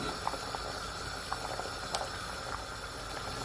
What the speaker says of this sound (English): So guys, it has come to a simmer.